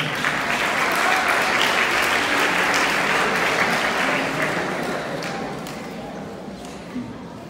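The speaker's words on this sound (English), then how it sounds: "please give them a round of applause" Loud crowd applause at a school sports awards event, full and steady at first, then slowly thinning and fading toward the end.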